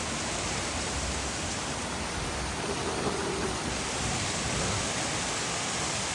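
Heavy monsoon rain during a major flood, with floodwater rising outside a window: a dense, unbroken roar of rainfall at steady loudness, washing broadly across the whole clip with no distinct voices.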